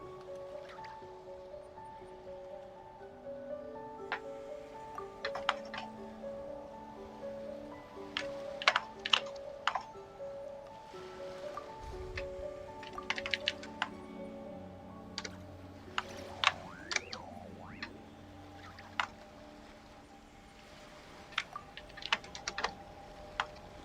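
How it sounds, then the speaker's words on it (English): Computer keyboard clicking during a Genshin Impact livestream, with scattered sharp keystrokes, some in quick bursts, over a soft background of steady tones and a low hum. "Can you hear me clicking on my keyboard?"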